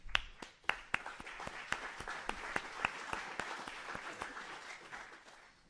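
Audience applause welcoming panelists onto the stage at a talk on growth hacking, a steady round of many hands clapping from a crowd, loud at first and tapering gradually over several seconds.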